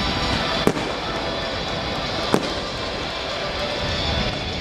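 Fireworks bursting over a baseball stadium at night during a season-final game, with two sharp bangs standing out above a constant roar of crowd and ambient noise.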